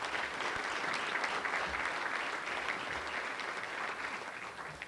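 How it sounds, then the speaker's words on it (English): An audience at a spring general assembly bursts into sustained applause, dense clapping from many hands holding steady for about five seconds before easing slightly at the end, with no voices standing out. "Give them a round of applause."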